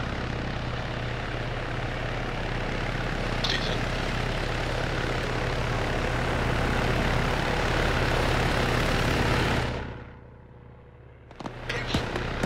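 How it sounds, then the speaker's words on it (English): Helicopter in the ARMA 3 video game, a loud steady rotor and engine drone that holds for about ten seconds, then cuts out abruptly, followed by faint scattered clicks. "Let's get up on the helo."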